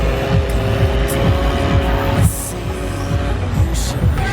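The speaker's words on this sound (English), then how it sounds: "So not only a weekend of flying, they also have drifting too. Drifting on a runway." Cars drifting on an airport runway at an outdoor festival in Bicol, engines revving loudly in repeated rising bursts with steady road noise beneath, close and continuous.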